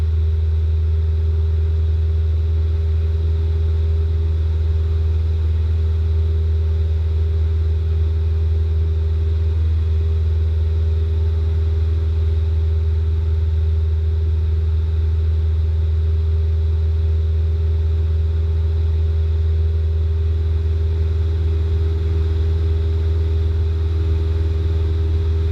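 Small airplane engine droning steadily during the climb-out after departure, a loud, constant low rumble with a sustained tonal hum throughout, no voices.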